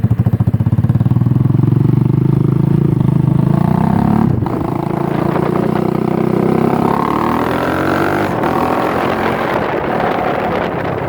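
A 1974 Honda XL125 motorcycle engine runs close by, loud and rattly, with a few throttle blips rising and falling in pitch before settling into a steady, buzzy idle.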